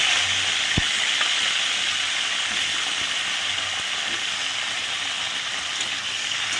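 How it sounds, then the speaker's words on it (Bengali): Cauliflower fries in hot oil with a constant, even sizzle throughout, broken by one sharp click near the start. "এই তেলের মধ্যে আমি ফুলকপিটাকেও ভেজে নেব।"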